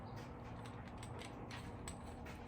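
A torque wrench on a motorcycle tire job is adjusted with quiet, close ratcheting clicks and small mechanical creaks, faint and irregular against a low background hum.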